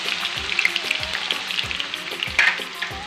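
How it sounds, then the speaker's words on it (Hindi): Carrots lightly frying in a pan for a Pakistani mixed vegetable dish, a steady close sizzle with occasional stirring scrapes and no talking. "इसके बाद हम इसके अंदर ये हल्की सी कैरेट जो है इसको भी लाइट फ्राई करेंगे"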